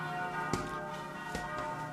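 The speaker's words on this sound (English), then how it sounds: "you can see here the bells ringing" Church bells ringing from the roof of the Church of the Holy Sepulchre in Jerusalem, two resonant strikes about a second apart over a sustained humming ring, moderately loud, with no talk.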